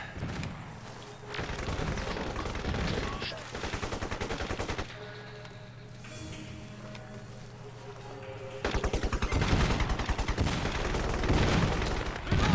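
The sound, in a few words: gunfire in Crysis video game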